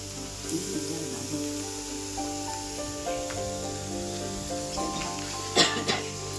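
Beetroot and carrot frying in a pan with ginger and green chilli give a steady, moderately loud sizzle that runs throughout, with a brief sharper hiss near the end.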